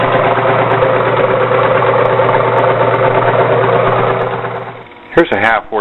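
An old 1.5 horsepower, 220-volt 3-phase electric motor turning at 1750 RPM hums loudly and steadily up close, then winds down near the end as a voice briefly breaks in.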